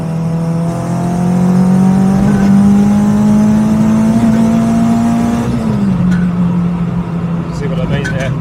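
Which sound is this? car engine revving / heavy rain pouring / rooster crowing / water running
car engine revving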